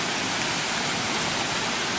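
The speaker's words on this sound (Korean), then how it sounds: "자연 폭포가 이제 터가지고" A natural waterfall on the grounds of Namhwasa, a Buddhist temple in Gumi, South Korea, pours in a steady, dense rush of broadband water noise that holds constant from start to finish with no voices.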